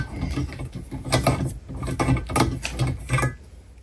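A thread tap spinning freely out of a freshly cut hole makes a run of light metallic clicks and ratcheting scrapes in uneven bursts, close and moderately loud with no talking.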